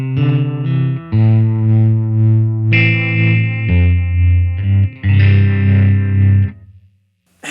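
Electric guitar through a Line 6 Helix with tremolo set to quarter-note tap tempo and overdrive, playing loud distorted chords that pulse in a steady rhythmic throb before cutting to silence near the end.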